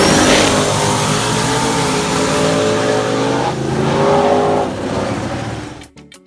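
A drag racing car makes a timed pass, its engine roaring loudly as it accelerates through rising gear sweeps, then the sound drops away and cuts off abruptly near the end.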